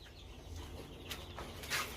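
Chicks on a poultry farm in Saudi Arabia give faint, scattered peeps and chirps over a low background hum, with a couple of brief sharper calls toward the end.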